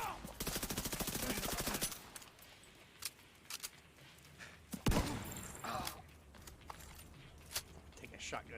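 Shotgun blasts in the video game The Division 2, a rapid stream of sharp shots at first, then sparse scattered bangs and thuds mixed with quieter game noise.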